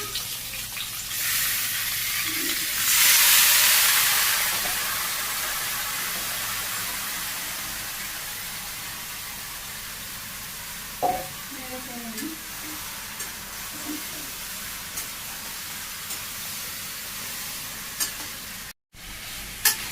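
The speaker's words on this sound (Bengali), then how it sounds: "পেঁয়াজ হয়ে গেছে, মাংস দিয়ে দিচ্ছি।" Pieces of chicken going into a pan of fried chopped onions in oil in a Bangladeshi village kitchen, giving a steady broad sizzle with a louder burst early on and occasional stirring clinks and scrapes, no talking.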